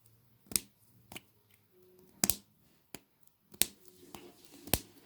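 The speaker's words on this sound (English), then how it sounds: "It's like another snapper." A DIY fidget snapper toy gives sharp, separate snaps, about seven in five seconds at an irregular pace, close and crisp against near silence.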